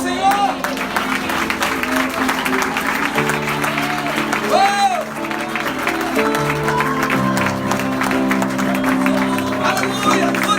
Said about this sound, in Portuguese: Quem crê, dê uma salva de palmas ao Senhor.